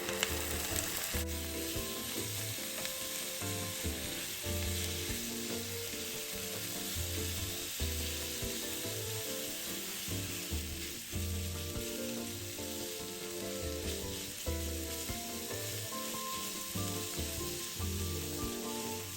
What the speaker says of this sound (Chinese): 一起炒至锅里食材溢出香气后，再将全鸡腿1个切成丁后加入